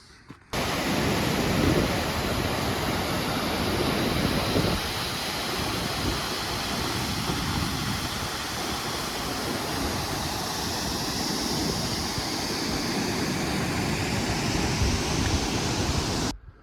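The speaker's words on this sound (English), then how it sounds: "So we have reached Evolution Creek." Rushing water of Evolution Creek in the Sierra Nevada, a steady broadband roar of a fast mountain stream close by, continuous and loud throughout with no voices.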